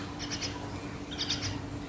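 A Nias hill myna gives two short bursts of bright, whistled notes, each a quick cluster of three calls, fairly close against a quiet background.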